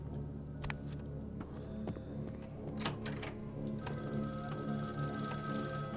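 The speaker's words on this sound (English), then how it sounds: "Ah, it's the phone again." A telephone rings repeatedly in Vampire: The Masquerade – Bloodlines, a ringing tone with sharp knocks and clunks beneath it, set against a steady hum of game ambience and no voices.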